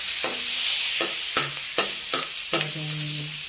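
Garlic sizzling in melted butter in a pan while being stirred, a steady frying hiss broken by several scraping stirs of the utensil, close and clear with no talk.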